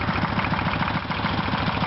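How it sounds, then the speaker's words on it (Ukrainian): A mini tractor's engine runs at a steady, close, loud pulsing drone while plowing stubble strewn with straw, with no voices. "міні-трактором я, я ораю"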